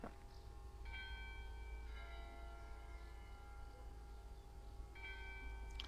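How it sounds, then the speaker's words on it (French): Church bells of the Rocamadour sanctuary toll at a distance, several overlapping strikes ringing out and sustaining over a steady outdoor hum, with new strokes arriving at intervals. "Dans les cloches du sanctuaire, là."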